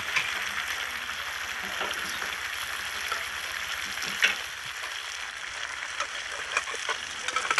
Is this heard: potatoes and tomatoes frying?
yes